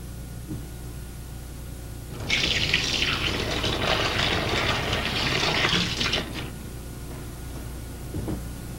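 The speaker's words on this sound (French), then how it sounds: "Bien rincez l'intérieur de la boîte à l'aide d'eau chaude." Hot water gushes into a container to rinse its interior during home beer making, a steady pouring wash lasting about four seconds, preceded and followed by quieter handling noise.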